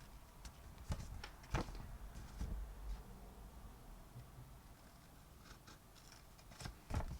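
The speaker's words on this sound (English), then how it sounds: "then just cut inside that score line" Scissors snip through envelope paper along a score line, making faint, close, irregular crisp cuts spaced out over a quiet room background.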